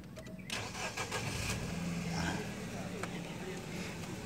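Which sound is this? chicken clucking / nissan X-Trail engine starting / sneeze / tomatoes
nissan X-Trail engine starting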